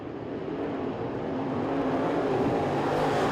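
Race cars run on a track during heat racing at the Winter Nationals, a dense, steady engine roar from several cars heard at a distance and swelling slightly louder.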